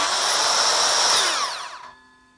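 A Bosch GKS 66X 6-1/2 inch circular saw whines loudly at full speed, then its braking blade spins down with a falling pitch and stops within about half a second, leaving quiet.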